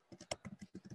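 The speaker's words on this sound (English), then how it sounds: "I'm typing it." Quick keystrokes clatter on a computer keyboard, about eight soft, separate clicks in a brisk uneven rhythm, faint and close, with no talking.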